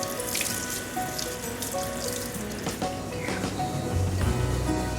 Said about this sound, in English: How about a shower instead?